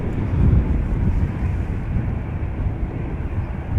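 A Croatia Airlines airliner departs Amsterdam Schiphol Airport, its engines producing a steady, broad roar that holds loud and even throughout, with some wind buffeting on the microphone.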